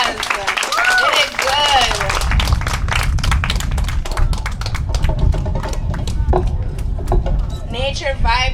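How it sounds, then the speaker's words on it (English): Applause for a band at a community arts event, steady crowd clapping running the whole stretch, partly covered by talk and brief voices. "All right, give them another round of applause."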